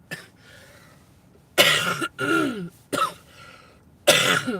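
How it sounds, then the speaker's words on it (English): Three loud, harsh coughs from a person nearby, in a car while driving, separated by short quiet gaps with a low hum behind. "I'm so sorry for coughing"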